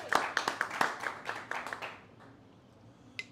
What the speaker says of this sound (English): let's give Crispy a round of applause